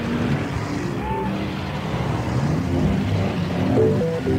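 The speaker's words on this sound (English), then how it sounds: "And traffic." City traffic noise: a dense, continuous wash of passing cars and engine rumble at moderate loudness, with brief tonal swells and no speech.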